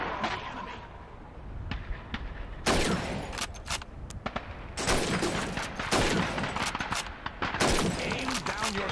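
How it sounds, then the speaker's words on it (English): Rifle fire on a shooting range in the Call of Duty 2 video game, loud sharp shots cracking in irregular bursts with reverberating tails, some quick successive volleys, over a low background rumble. "Shoot those bottles and plates."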